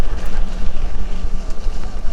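Strong wind buffets the microphone during an off-road adventure ride on a Bull Commander motorcycle far from any road, a loud, gusty low rumble pulsing throughout with no talking.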